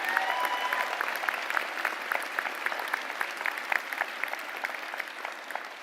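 An honors convocation audience applauds distinguished student award winners with steady, moderately quiet clapping from many hands, spread evenly and sustained without a break.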